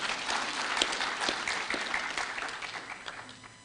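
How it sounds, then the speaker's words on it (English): An audience at a launch event for an African women's project gives a short round of applause for a speaker, moderately distant and steady, tapering slightly toward the end. "give her a clap."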